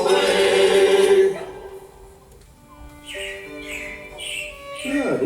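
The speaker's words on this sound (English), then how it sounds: "it looks like the Robins are getting ready to celebrate Valentine's Day today" Robins chirp in a series of short, bright, repeated calls after a voice and music fade out. The calls are moderately near and slightly faint.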